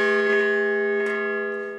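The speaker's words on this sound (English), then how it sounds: "The clock was designed to ring a bell every hour," A clock tower bell strikes once, ringing the hour, its rich metallic tone humming and slowly fading, clear and alone with no other sounds.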